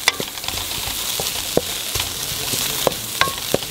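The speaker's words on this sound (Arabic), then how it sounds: "ونحمس الزبيب مع البصل" Raisins and onion fry together in hot oil with a constant sizzling hiss, punctuated by sharp scrapes and taps of a spoon against the pan, close up and without speech.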